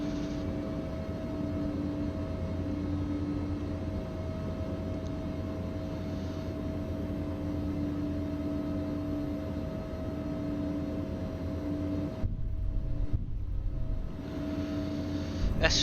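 Steady, droning airplane engine hum inside a cabin, heard from a seat next to the engine in X-Plane 11, constant and low, with a brief dip near the end.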